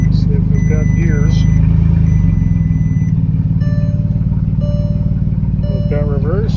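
A salvage VW Touareg engine runs steadily at a loud idle as it is shifted into gear, with people talking over the constant low hum and a few brief squeaks.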